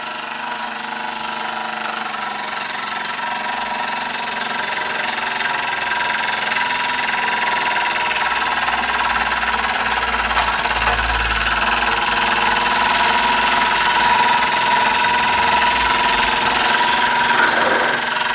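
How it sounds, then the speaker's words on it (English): A Hobbies SE1 model steam engine, nearly 80 years old, runs steadily with a continuous mechanical chugging and faint rattling vibration, close and fairly loud, with no voices over it. "I love running these little engines, be it Mammoth or Hobbies."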